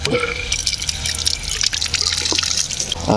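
Water drains out of a tank through an opened valve, a steady rushing, splashing flow with drips, close and fairly loud throughout.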